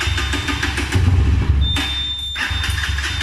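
A motorbike fitted with a phone-controlled anti-theft device fails to start: the engine chugs and thumps unevenly, drops out briefly, then sputters again, loud and close.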